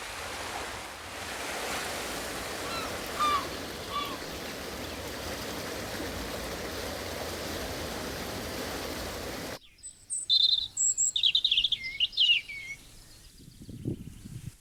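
Steady surf washes over the first two thirds, then gives way to bright, close bird calls chirping in quick bursts against near silence.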